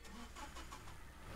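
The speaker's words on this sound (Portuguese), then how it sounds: "Um carro?" A car engine in the indie video game Distortions runs steadily at mid pitch, a continuous near rumble with slight revving swells, heard alone without talk.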